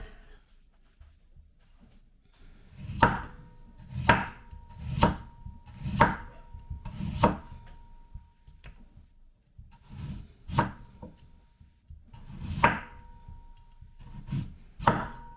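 Knife chopping Korean radish (mu) on a cutting board, a run of sharp close thuds in clusters with brief pauses between batches, no talking.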